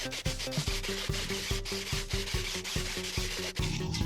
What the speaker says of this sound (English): I started with drilling the rubber out